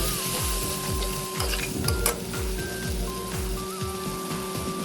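Spice paste with turmeric fries in a pan under a steady close sizzle, while a spoon stirs and scrapes in a repeated regular rhythm throughout, with a few faint tones over it.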